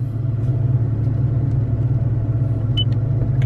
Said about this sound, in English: Let me try starting the truck up, see what it does.